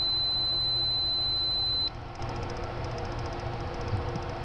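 An electronic mouse repeller fitted in a Jaguar F-Type gives off a steady high-pitched electronic tone that cuts out partway, leaving a faint buzzing hum inside the car.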